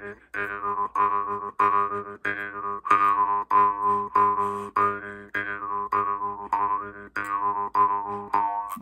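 An Austrian-made jaw harp is played in a steady rhythmic twang, about a dozen repeated plucked pulses with a bright buzzing drone, close and clear with no voices.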